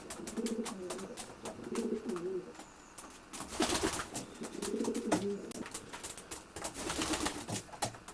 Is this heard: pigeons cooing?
yes